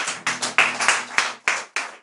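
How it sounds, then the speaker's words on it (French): A church congregation claps at a French-speaking celebration service, with sharp, separate handclaps landing in a loose, fairly steady rhythm at close range for about two seconds. "On peut applaudir encore"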